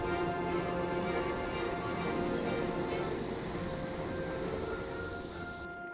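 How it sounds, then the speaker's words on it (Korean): A passenger train travelling through China roars steadily and loudly throughout, a continuous rumbling rail noise with a faint high whine and periodic clicks, with no voices. "아침에 출발한 기차가 밤 9시가 넘어서야 도착했다"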